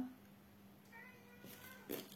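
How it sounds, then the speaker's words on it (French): A cat meowing in another room: a few muffled, distant meows over a quiet indoor background. "c'est Doudou qui miaule de l'autre côté."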